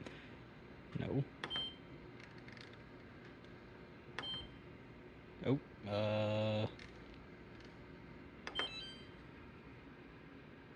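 A kitchen appliance timer gives one steady beep lasting under a second while hamburger and rice cook, set among scattered clicks and button presses, with a brief spoken word.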